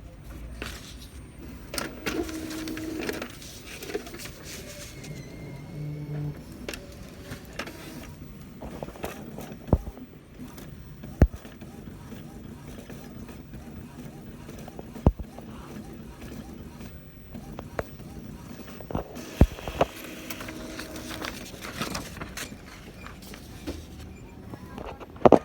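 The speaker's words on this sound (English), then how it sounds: "we press this one to print the nozzle checks" An Epson inkjet printer printing a nozzle check: mechanical whirring and scattered clicks of the print head and paper feed run through the clip, while a person talks over it.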